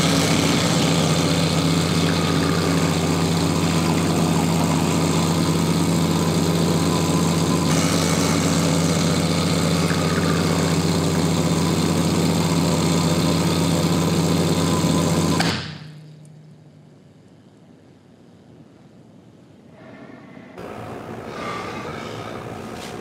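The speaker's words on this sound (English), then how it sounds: "let's pull a shot" An espresso machine pulls a shot of coffee, a loud, steady mechanical pump drone that runs continuously for about fifteen seconds, then cuts off abruptly into quiet room tone with faint handling noises.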